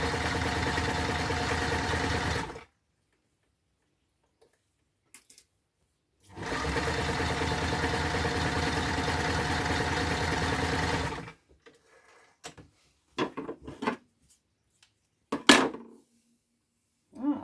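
A sewing machine stitches a small pillowcase cover in two loud, steady whirring runs separated by a pause, followed by scattered clicks and knocks as the work is adjusted.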